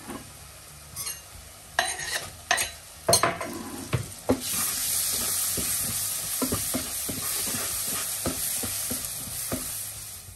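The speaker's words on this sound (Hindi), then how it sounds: "प्याज लहसुन वगैरह डाल के ना तो वो मैंने तड़का भूनने के लिए रख दिया था" Onion, garlic, ginger and spices fry in a tadka for goat meat curry, a steady sizzle broken by sharp spoon scrapes and clinks against the pan, close and fairly loud.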